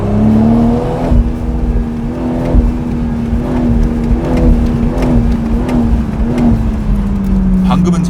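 A BMW Z4 M40i sports car revs and accelerates hard, then slows under engine braking; a steady loud engine drone with pulsing exhaust rises and dips across the clip while someone talks over it.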